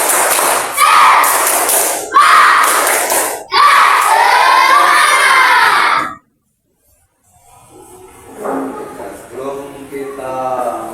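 Schoolchildren in an Indonesian classroom clap a spirited rhythmic chant together, loud bursts of group clapping in quick patterns with short pauses, ending abruptly before quieter talk.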